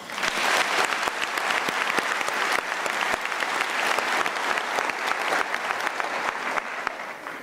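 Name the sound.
audience applause for a professor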